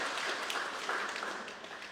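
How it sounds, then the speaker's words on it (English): A crowd at an award ceremony in Dominica applauds steadily, a dense wash of clapping hands that holds at an even level throughout. "Can we give a hand of applause?"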